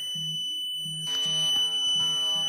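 A CarProtec alarm on a leisure vehicle blares in loud, pulsing electronic tones, a low buzzing pattern giving way to bright, harsh siren-like bursts that repeat close by.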